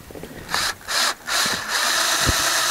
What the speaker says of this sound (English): these self-tapping screws will drill their own holes